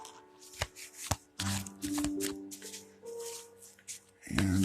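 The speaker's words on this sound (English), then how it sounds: "I'm going to get a quick shuffle" Tarot cards are shuffled in quick, irregular riffles and taps, close and fairly quiet, with bursts of card slaps and a louder flurry at the end.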